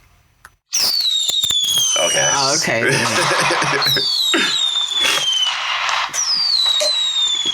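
Fireworks sound effect played at low volume, a rapid string of crackling bangs and whistling rockets lasting several seconds, with a voice briefly speaking underneath.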